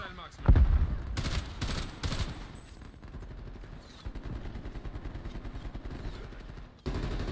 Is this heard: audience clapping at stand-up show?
no